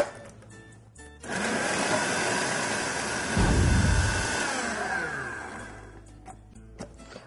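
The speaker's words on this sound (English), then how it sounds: "And then blend them until they're nice and crumbly." A countertop blender whirs loudly as it chops soaked fava beans into a crumbly falafel mix, running steadily for about five seconds before spinning down.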